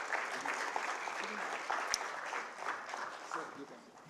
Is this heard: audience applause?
yes